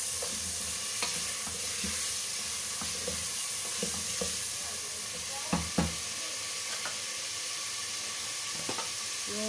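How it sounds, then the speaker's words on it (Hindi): Half-fried desi chicken sizzling in a pan, a steady close hiss of frying with scattered clinks and scrapes as it is stirred, no talking. "ये चिकन मैंने कल का दिलाया हुआ है, मुर्गा है जो देसी है, देसी, तो इसको मैंने हाफ फ्राई किया हुआ है"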